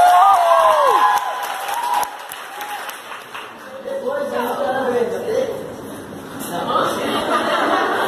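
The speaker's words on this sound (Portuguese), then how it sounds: "Salve de palmas pra eles." A workshop audience in Brasília bursts into applause mixed with cheers and laughter. A voice is heard at the start, and the clapping swells again later under crowd chatter.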